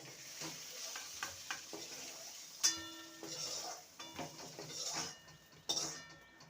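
Potatoes frying in a pan for aloo dum, a steady close sizzle broken by the scrape of a spoon stirring them against the metal, with a sharper clatter of utensils near the middle.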